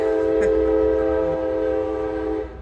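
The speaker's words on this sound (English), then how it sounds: "The train's going by, so you might hear the train." A passing train sounds its horn loudly and steadily at a nearby crossing, a sustained multi-tone blast holding across the whole stretch with rumbling rail noise beneath, then easing off at the end.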